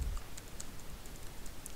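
Faint, light clicking from a computer keyboard as an SQL query is typed, scattered keystrokes ticking quietly at close range against a soft background hiss.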